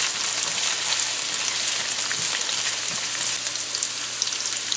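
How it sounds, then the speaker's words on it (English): Carrots and onions sizzle steadily in a hot pan for Spanish rice, a dense continuous frying hiss at moderate level with faint soft crackles, close by and with no voices. "next you're going to add the carrot, because that's the hardest of everything. Let it fry up a little bit too"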